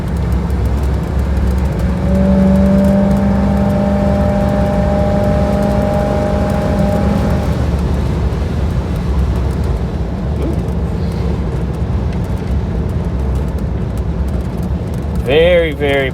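A 1961 Buick fitted with an Edelbrock carburetor accelerates on a test drive. From inside the car, a loud, steady engine drone and road rumble carry a rising tone for a few seconds before settling.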